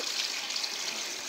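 Water gushing out of an RV water heater tank drain with air venting in, a steady close hiss of draining flow, no voices.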